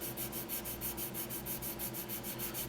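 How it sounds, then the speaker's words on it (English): Stynylrez primer on a model being sanded by hand, a quick, even back-and-forth rasping rhythm of about five strokes per second, close and steady. "Let's see what happens when we keep sanding it and see if we can get it to feather out."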